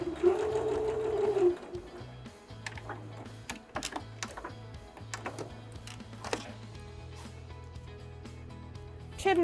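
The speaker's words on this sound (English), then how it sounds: "So I'm just going to stitch that together using the sewing machine." A sewing machine stitches fabric for a circular drawstring bag in repeated bursts of rapid mechanical clatter with brief pauses between runs, close by and fairly loud.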